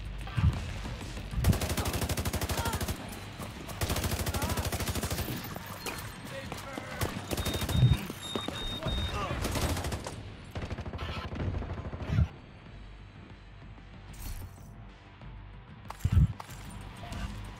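Gunfire in the video game The Division 2 on PC, loud automatic bursts and rapid volleys in the first half, thinning to occasional shots, while players chat over it.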